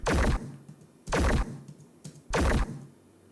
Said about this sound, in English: then reload hit 2, which is definitely from my sound effects bundle